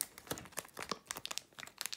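A Japanese Pokémon card booster pack is torn open by hand, its foil wrapper giving a close run of sharp crinkling and ripping bursts with no voices.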